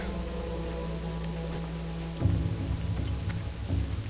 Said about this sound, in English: And the rain is back.